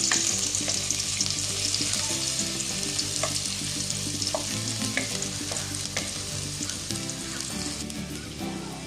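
Chopped onion frying in a pan until golden brown for a mixed fish curry makes a loud, continuous close sizzle, with occasional stirring clicks and scrapes and no voices.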